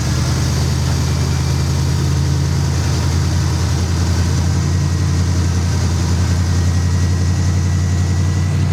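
An International Scout engine idles steadily on a Harley carburetor with no choke or throttle cables, just a fuel line. It gives a close, even low rumble throughout with no revving.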